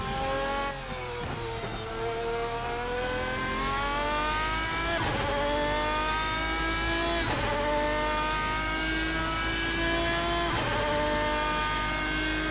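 A GT race car in Assetto Corsa at Circuit de la Sarthe roars loud and close, its engine climbing through gears in repeated rising sweeps with sharp shifts every couple of seconds, steady and continuous throughout.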